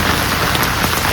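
Heavy rain pours steadily onto a flooded footpath leading home in Kerala, a dense, loud, continuous hiss of water with no talking.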